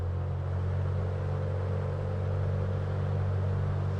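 Deep, steady engine drone of a twin-engine bush plane in Microsoft Flight Simulator 2024, a constant low rumble with a truck-like growl that stays level and close throughout.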